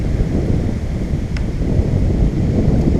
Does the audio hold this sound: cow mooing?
no